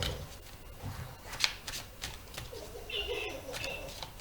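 Tarot cards shuffled by hand for a general reading, quiet repeated flicks and soft rustling slides, close and fairly faint.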